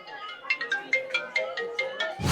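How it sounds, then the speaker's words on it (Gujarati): A mobile phone ringtone for an incoming call sounds amid crowded traffic on the Girnar Lili Parikrama pilgrimage in 2024: a close, repeating melodic pattern of bright pulses, ending in a loud rustling burst. "અહીંયા ફોન આવ્યો બોલો ફોન આવ્યો છે અત્યારે"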